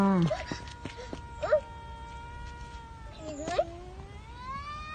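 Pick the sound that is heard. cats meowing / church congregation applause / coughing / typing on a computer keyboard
cats meowing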